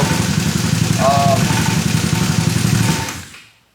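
A motorcycle with a Mikuni carburetor, left sitting six months with gas in the carb in a Florida trailer, runs with a steady close idle before dying away to silence.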